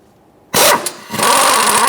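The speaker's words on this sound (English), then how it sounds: "I'm going to use a 19mm socket on an impact and remove the crank pulley bolt." Impact wrench with a 19mm socket removing the crank pulley bolt on a 2003-2007 Honda Accord: a sudden loud burst of whirring hammering starts mid-clip, briefly eases, then rattles on steadily up close.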